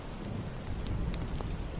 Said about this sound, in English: it will start to trickle with rain